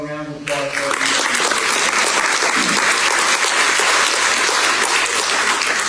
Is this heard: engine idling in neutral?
no